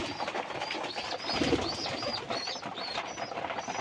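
Soft, repeated cooing of pigeons fed indoors in their loft on a cloudy day, a steady low murmur of several birds close by with a faint rustle of movement.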